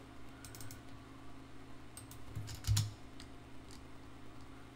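Short bursts of clicks on a computer keyboard as a Linux install command is typed, quiet and close, with a low steady hum beneath.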